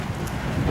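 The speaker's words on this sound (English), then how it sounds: "Oh, it really got windy." A brief, blustery whoosh of wind buffeting the microphone, broad and rumbling.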